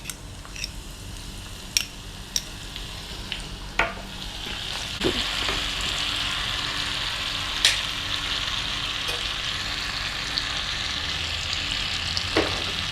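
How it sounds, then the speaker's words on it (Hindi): Julienned ginger, whole dried red chillies and butter sizzle in a pan as a tadka for dal, a steady close frying hiss broken by sharp crackles and pops throughout. "अब एक स्पेशल तड़का लगेगा। इसमें डालेंगे हम ये अदरक के जूलियन और ये खड़ी लाल मिर्च"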